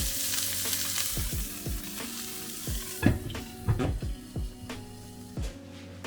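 A burger patty fries in a pan with slices of cheddar processed cheese melting on top, sizzling loudly and steadily up close, with sharper pops and crackles breaking through the hiss.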